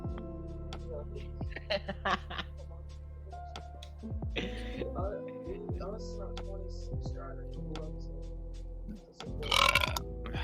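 A loud, long, croaking burp rumbles through the middle of a podcast conversation, with people talking around it and a short laugh near the end.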